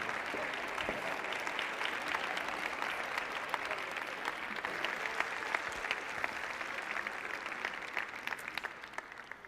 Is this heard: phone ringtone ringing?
no